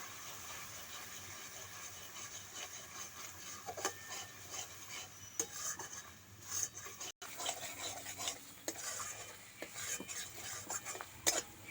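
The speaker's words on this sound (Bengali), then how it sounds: "ভালো করে মিশিয়ে নেবো মশলার সঙ্গে" A spoon stirring cashew and poppy seed paste into spices in a pan for a Bengali rohu fish dish, a faint continuous scraping and rubbing with light metallic clinks, no voices.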